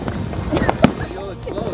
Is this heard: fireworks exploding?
yes